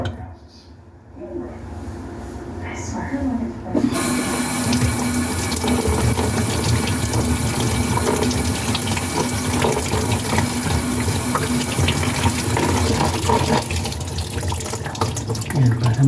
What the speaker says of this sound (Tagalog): binuksan natin yung gripo